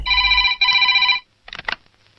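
Telephone in a house rings with two loud electronic trill bursts, then a short burst of clattering follows after a pause.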